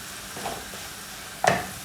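Ground coconut paste goes into cabbage curry in a pan, with a faint stir, a soft low sizzle, and one sharp scraping clink near the end.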